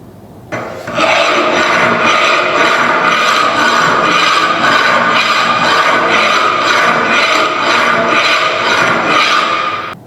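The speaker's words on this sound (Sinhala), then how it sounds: "එහෙම නැත්නම් වර්ක් පීස් එකක් ෆයිල් කරගන්න පුළුවන්." A metal file rasps steadily across a workpiece in regular back-and-forth strokes, loud and close, with no voices over the rhythmic scraping.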